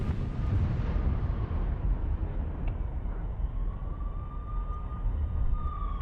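A deep, roaring rumble from an explosion destroying a building in Gaza, sustained and heavy, with a faint siren-like tone rising in the background.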